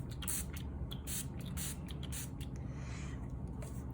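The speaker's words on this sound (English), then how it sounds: "and then spraying it and getting it wet," Water misted from a spray bottle onto blackberry-colored paint dabbed across a mixed-media journal tag, a quiet run of soft repeated spritz bursts at close range over a steady low hum.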